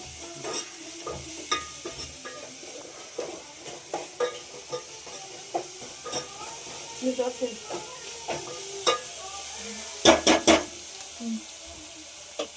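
Green chillies frying in oil in a pan make a low sizzle under repeated sharp clinks and scrapes of a stirring spoon, close and fairly loud, with a brief burst of clatter near the end.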